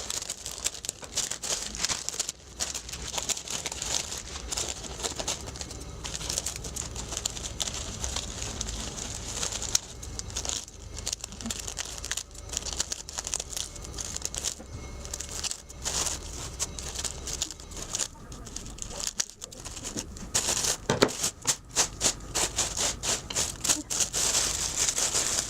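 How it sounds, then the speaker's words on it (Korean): Plastic wrap for a Valentine's Day flower box is cut and crinkled, giving steady rustling and crackling with quick snips all the way through, close and fairly quiet, with no talking. "그러면 이제 비닐을"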